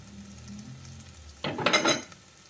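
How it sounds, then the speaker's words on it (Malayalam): Coconut pieces and onions being sautéed in a pan for Kerala-style beef ularthiyathu, with a quiet start and then a sudden burst of loud frying sizzle as the pieces are stirred. "എല്ലാം കൂടി നമുക്ക് നന്നായിട്ടൊന്ന് വഴറ്റിയെടുക്കാം."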